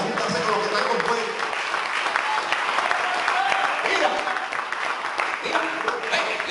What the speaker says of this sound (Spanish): Alaba, dale un aplauso al Señor.